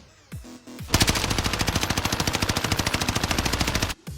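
Sustained automatic fire from the Volk rifle in a video game with the Cronus Zen anti-recoil turned off, a fast, evenly spaced, loud burst of shots that runs unbroken for about three seconds after a couple of brief mechanical clicks.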